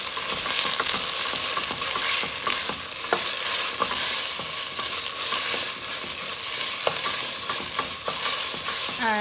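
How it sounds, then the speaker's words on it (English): Tomato paste being stirred into a hot cooking pot, with a steady sizzle and frying hiss under repeated scraping strokes of the spoon, close and loud with no speech. "2 heaping teaspoons of tomato paste. I'm just gonna mix this in."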